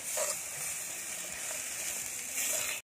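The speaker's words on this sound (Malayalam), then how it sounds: "നല്ലപോലെ ഇളക്കി കൊടുക്കാം." Plantain frying in a pan while being stirred, a continuous close sizzle and hiss with faint scraping movements, cutting off abruptly.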